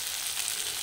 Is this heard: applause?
no